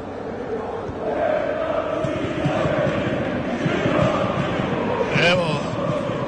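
Željezničar football fans in the stands make a steady, distant crowd roar of cheering and chanting that runs throughout under a commentator's voice.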